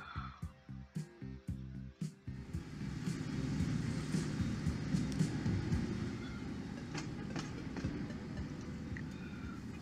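Trains running in the Transport Fever 2 rail simulation, with a continuous rumbling rail-traffic drone and a few rhythmic clicks at the start, steady and moderately loud with no talking.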